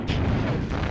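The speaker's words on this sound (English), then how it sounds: "that's the max level explosion, and like it's kind of like a frag grenade that continues to explode" A max-level explosion in Spyro A New Beginning erupts as a dense, rumbling boom that keeps roiling for about a second.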